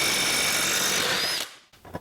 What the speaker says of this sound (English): Or you can get an impact wrench.